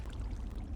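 Water being poured in the Nether in Minecraft, a steady low rushing pour that fills the whole short moment without a break, close and continuous with no talking.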